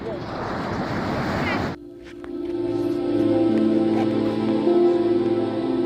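Sea surf rolls in at Puri beach in Odisha, a broad, rushing wash of breaking waves at first. After that, wind buffets the microphone while voices and a tonal hum take over.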